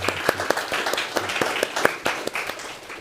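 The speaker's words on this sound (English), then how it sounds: "maybe a big round of applause" A conference audience in Vienna claps steadily, a dense patter of many hands applauding at moderate distance without anyone speaking.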